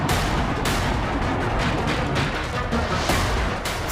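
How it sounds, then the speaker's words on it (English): Heavy blasts from a Kinzhal hypersonic missile strike on an underground weapons depot, a dense roar of repeated booming explosions and crashing debris, loud and continuous without voices. "the Kinzhal hypersonic air-launched cruise missile, seen here smashing into a Ukrainian underground weapons depot"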